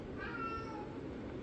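A single drawn-out cat meow, fairly faint, over a low background hum.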